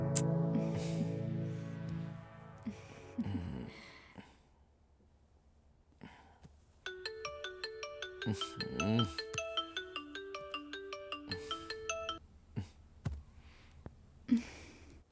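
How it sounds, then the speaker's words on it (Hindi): A phone ringtone plays a repeating melodic pattern of short tones for several seconds in a quiet room, with sighs and breathing heard around it. "किसका फोन आ रहा है भार्गव?"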